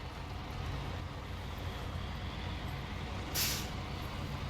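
A heavy truck idles in the SnowRunner video game, a low engine rumble with a short sharp hiss of air brake release near the end.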